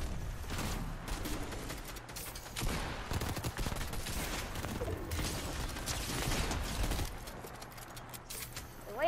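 Rapid gunfire crackles almost nonstop during a Fortnite Reload zero-builds squads match, dense overlapping shots and bursts that stay loud throughout with brief swells.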